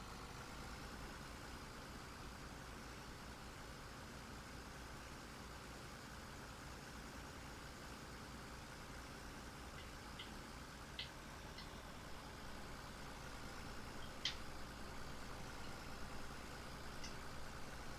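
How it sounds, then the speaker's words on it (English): Tractor engine in Farming Simulator 17, a steady low idling drone that holds constant and even, close and unbroken, with a few faint clicks on top. "See, that tractor, it's slow about taking off."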